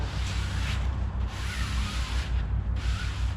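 A shop towel rubs steadily across freshly taped fabric on a Piper Pacer tail surface during aircraft covering work, wiping off the excess in a continuous close scrubbing swish with short pauses.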